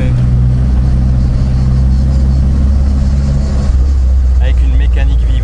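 The small engine of an Austin Healey Sprite Mk1 "Frogeye" roadster runs with a loud, close, steady rumble, while people talk over it.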